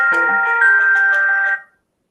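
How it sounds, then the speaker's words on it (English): Phone call ringing tone: a loud electronic ring with a sustained melodic tone lasting about a second and a half, then cutting off into silence. "Let's call him again with a phone."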